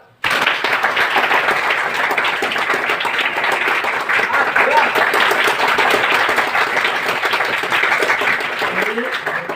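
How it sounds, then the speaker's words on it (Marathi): A large crowd claps fast and loud in a sustained, dense wave of rapid hand claps that starts abruptly and holds at full strength for several seconds, close and continuous with no pauses. "फास्ट टाळ्या वाजवायच्या, जोरात."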